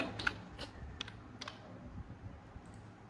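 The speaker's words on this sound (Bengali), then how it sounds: "ক্যাপচাটা টাইপ করতে হবে" Someone types a captcha on a computer keyboard while logging into a land-records website: a few soft, scattered keystrokes and clicks, close but quiet over faint room hiss.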